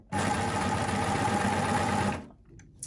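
A coverstitch sewing machine runs steadily with a knit binder attachment, giving a close, loud, even mechanical whir for about two seconds before stopping abruptly.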